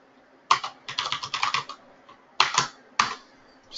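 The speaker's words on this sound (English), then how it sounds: "Just typing that in and hitting enter." Typing on a computer keyboard: one sharp keystroke, then a quick run of keys, followed by two louder isolated strikes like pressing enter, close-up with no voices.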